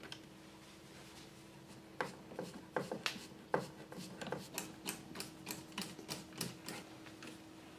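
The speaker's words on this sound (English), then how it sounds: "So now we're just going to put the screws back in." Screws being driven back into a light switch face plate: a series of short scraping, ticking clicks that start sparse and speed up into a steady rhythm of quick turns, close by over a faint background hum.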